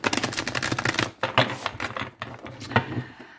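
Tarot cards shuffled by hand in quick, dense riffling bursts that rattle on for about a second and a half, then continue in shorter, broken flurries of crisp papery clatter, close and fairly loud with no talking.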